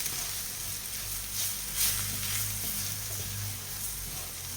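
Butter and flour stirred together in a hot pan as a roux for œufs meurette, a soft steady sizzle with faint scraping strokes running throughout, close and alone.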